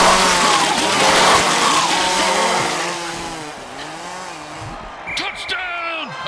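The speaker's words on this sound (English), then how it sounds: "your motor running. It's chainsaw time." A chainsaw revs loudly in a video game, its whining pitch sweeping up and down and then easing off before a few short mechanical clicks, over a commentator's voice.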